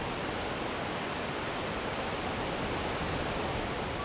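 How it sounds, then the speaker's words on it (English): The Rhine Falls, Europe's largest waterfall at about 75 feet tall and 450 feet wide, roars as a steady, dense wash of rushing water heard up close from a boat, unbroken for the whole stretch. "The Rhine Falls is the largest waterfall in Europe."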